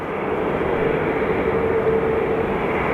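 An American Airlines passenger jet bound for Washington at Phoenix Sky Harbor Airport roars steadily in the distance, a broad, even engine rush with a faint whining tone and no voices.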